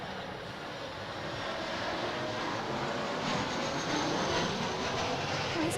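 A Qantas airliner lands at Adelaide Airport, a steady broad jet roar that builds gradually and stays loud and continuous through touchdown.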